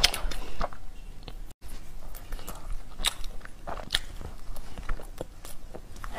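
Heated chocolate bread is bitten and chewed up close, with a dense run of soft crunches and moist chewing clicks, a brief gap early on, and no talking.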